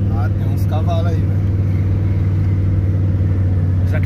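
Exhaust of a rare Japanese V6 biturbo car idling nearby, a loud, steady low rumble throughout with people talking over it.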